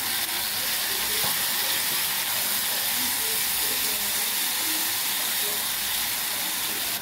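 Tomatoes fry in hot tempering oil in a pan for drumstick fry, giving a loud, continuous hiss and sizzle that stays dense and even throughout, close up, with no talking.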